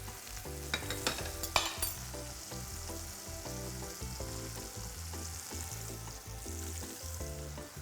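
Chicken fries steadily in a pan with rosemary, a dense continuous sizzle with stirring and clattering in the first two seconds, close and fairly quiet, with no talking.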